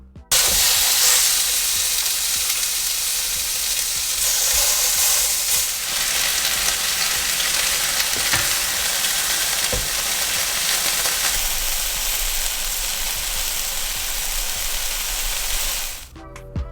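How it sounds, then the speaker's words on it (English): Pork ribs searing in smoky-hot olive oil in a pan, a loud, steady, dense sizzle and crackle that runs unbroken for the whole stretch before cutting off at the end. "once that pan is smoky hot, you can go ahead and start adding your ribs to the pan. You're going to sear them."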